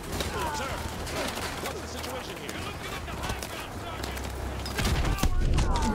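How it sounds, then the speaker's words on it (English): Enemy gunfire in Modern Warfare 2 Remastered, a steady, loud spray of rapid shots and fusillades around the player in an occupied White House battle, continuing throughout and swelling louder near the end, with game speech mixed in. "I'm getting shot at."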